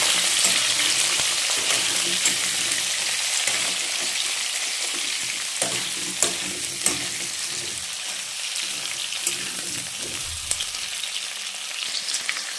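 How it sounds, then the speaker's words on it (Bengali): Potato and pumpkin chunks sizzle steadily in hot oil in a pan, a dense, close frying hiss that runs throughout, with a few soft clicks and scrapes of a spatula. "এবার আলু আর কুমড়োটা দিয়ে দেবো আর এটাকে একটুখানি ভেজে"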